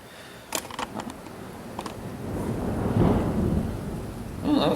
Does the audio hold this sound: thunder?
yes